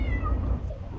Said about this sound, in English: cat in your car?